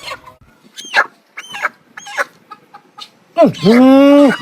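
Chickens at a poultry seller's stall give short, sharp clucks and cackles close by, ending in a long, loud drawn-out squawk, with people talking and bargaining in between.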